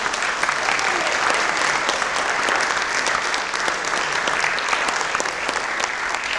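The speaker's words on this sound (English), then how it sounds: "So we'll get another round of applause, please." Audience applause after a lecture in a historic lecture series in Waco, a steady dense roar of many hands clapping that holds at an even level from start to finish.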